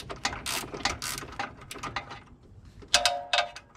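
A hand ratchet backs a bolt out of the MBRP exhaust on a Can-Am Outlander 850 ATV, giving short close bursts of sharp clicking with brief pauses between strokes.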